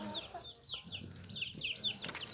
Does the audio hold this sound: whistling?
no